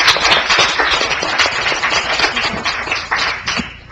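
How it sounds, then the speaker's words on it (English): Applause from a small audience at a prevention coalition community meeting, a sparse patter of individual claps with distinct hand strikes, moderately close and gradually thinning out. "Please give them another round of applause for all our panelists"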